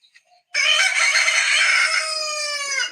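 A recorded Salvadoran rooster's crow plays as a phone alarm: one loud, drawn-out cock-a-doodle-doo lasting over two seconds after a few faint ticks, with no talk over it.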